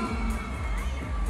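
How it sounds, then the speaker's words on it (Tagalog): A crowd at a birthday Zumba party shouts and cheers loudly in one continuous, dense roar that fills the whole short stretch with overlapping voices, children's shrieks among them. "Aba, ang lakas ng sigaw nila kahit nasa malaya."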